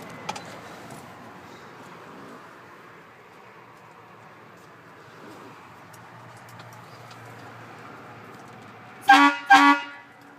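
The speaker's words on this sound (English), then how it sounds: "When I get my truck, I'm going to put an air horn on it like that." A truck's air horn lets out two short, loud blasts in quick succession near the end, after a long stretch of quiet outdoor ambience.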